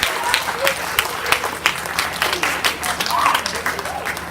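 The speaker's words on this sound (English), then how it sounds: "Give yourselves a round of applause right now" Scattered clapping from a small group at an athletics banquet, a steady patter of hand claps with a voice speaking over it.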